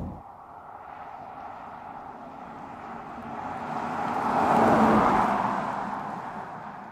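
A Mercedes CL600 with a V12 engine drives along, its steady engine note and road noise swelling to a peak around the middle before easing off again, with no voices.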